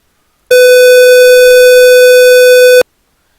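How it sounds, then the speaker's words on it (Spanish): A loud square-wave test tone played during a class on hearing mechanisms, a steady buzzy pitch with strong odd harmonics that starts abruptly, holds evenly for about two seconds and cuts off sharply, with no talk. "Voy a hacer sonar una señal cuadrada."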